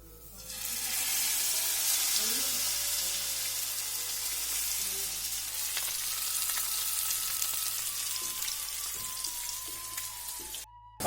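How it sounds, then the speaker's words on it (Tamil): Fish frying in oil on a hot tawa gives a steady, loud broadband sizzle that holds for the whole stretch, with faint crackles scattered through it and no talking. "தவால பயங்கரமா வறுத்துட்டு இருக்கேன்."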